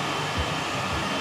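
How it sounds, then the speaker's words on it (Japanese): An airless hair dryer blows at close range, a loud, steady whooshing hum that runs through the whole short stretch with no talking. "このエアレスドライヤー、もし気になる人"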